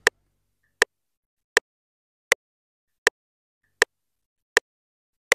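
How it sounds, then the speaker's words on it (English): Metronome ticking at 80 beats per minute, eight crisp evenly spaced clicks, close and alone in silence. "So your metronome will sound like this."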